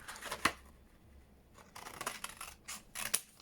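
Scissors snip through paper for a junk journal page, giving a few sharp, close cuts spaced apart over a quiet indoor background.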